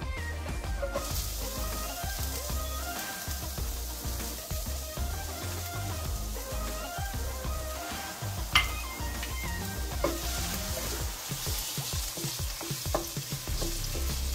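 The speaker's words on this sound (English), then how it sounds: "I like my onion browned, so I'm gonna let my onion cook here" Onion frying in oil in a pot for a Kenyan sukuma wiki dish, a steady loud sizzle lasting throughout with occasional clinks and stirring scrapes of a utensil against the pot.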